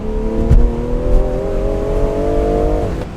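BMW G20 M340i accelerating hard, its engine note climbing in a smooth rising tone for a few seconds before easing off, loud and close with a brief thump early on.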